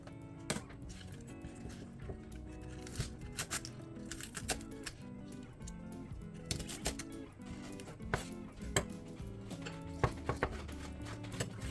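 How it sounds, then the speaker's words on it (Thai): Rapid knife chops through spring onions on a cutting board, irregular clusters of sharp taps repeating throughout, fairly close, over a faint background of music. "จากนั้นเราก็จะมาหั่นต้นหอมนะคะ"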